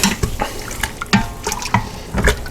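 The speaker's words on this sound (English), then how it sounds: "Let's stir that a little bit." A utensil stirs chili with a can of water in an Instant Pot, making close, wet sloshing and scraping strokes in a steady rhythm over a short stretch.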